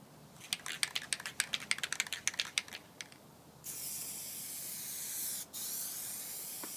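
Plasti Dip sprayed onto a Dodge SRT-4 car. A quick series of close clicks and taps comes first, then a steady, loud aerosol hiss that dips briefly before resuming.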